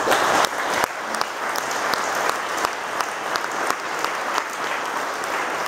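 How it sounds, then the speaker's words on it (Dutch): Conference attendees at a Kempen zonder Grenzen gathering give steady, moderately loud applause, an even patter of many clapping hands that continues unbroken throughout. "Ik wil een groot applaus voor alle"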